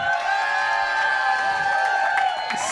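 A steady crowd roar of cheering and whooping for a band fills the whole stretch, loud and continuous, with a dense wash of voices rather than distinct claps.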